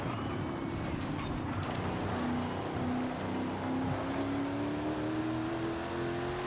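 Rear-wheel-drive car in Forza Horizon 5, tuned as a power build, with a steady engine drone rising slowly in pitch as it revs under smooth throttle; continuous and fairly close, without talk.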